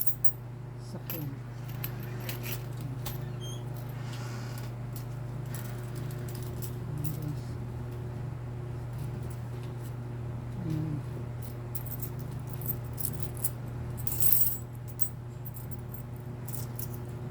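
Coins clink and jingle while money is taken out, soft metallic rattles near the microphone over a steady low hum, with brief quiet talk.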